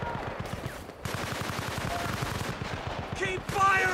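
Sustained automatic rifle fire in Battlefield: Bad Company, a fast, evenly spaced burst of shots that runs loud and close with brief gaps, while other combat sounds rise near the end.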